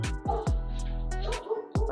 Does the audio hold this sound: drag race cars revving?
no